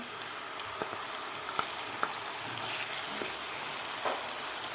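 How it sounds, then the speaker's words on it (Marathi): Ground masala paste from the mixer fries with onion in a pan for egg masala. A close, steady sizzle runs throughout with a few light stirring clicks and no talk. "आता हे वाटणसुद्धा आपल्याला दोन मिनटं व्यवस्थित परतून घ्यायचं आहे"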